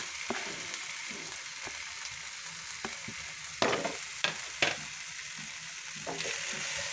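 Potatoes and onions fry in a pan for a crispy aloo fry side dish, with a steady hiss of oil under several sharp stirring scrapes and clinks, close up and without talk.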